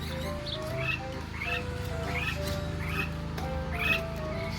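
Birds calling at a botanic garden in Dunedin, with repeated short chirping calls at mid pitch over a steady low hum of background noise, fairly close and continuous.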